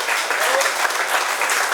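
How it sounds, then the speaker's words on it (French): Loud, steady applause from an audience at a live show, dense continuous clapping with no breaks. "on peut l'applaudir encore très fort"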